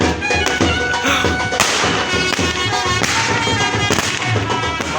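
Continuous crackling and popping of fireworks at a wedding celebration, with sharp bangs and thuds over a busy, noisy background, loud and close.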